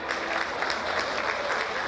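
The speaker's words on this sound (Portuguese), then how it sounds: "Joinha, aplausos para ele, gente" Audience applauding a performer at a cururu event, a short steady burst of clapping from a moderate crowd, heard alone.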